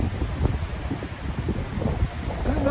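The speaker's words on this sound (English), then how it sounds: "The wind is ferocious." Ferocious wind buffets the trees on the Leas West clifftop at Folkestone, a gusty low rumble of microphone wind noise that surges and eases in quick, uneven pulses.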